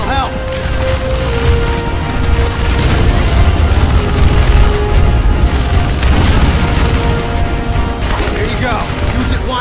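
Rapid gunfire in the Terminator Salvation video game, a dense sustained clatter of shots and booms under loud battle noise, with voices shouting over it.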